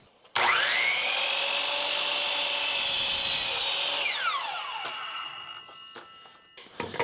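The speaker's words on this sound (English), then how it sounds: "I should also mention that I am using a 60-tooth trim blade. The more teeth, the better it is about not blowing out or splintering what you're cutting." A power saw fitted with a 60-tooth trim blade cuts through interior door trim, a loud, steady high whine held for several seconds before spinning down, with faint knocks afterward.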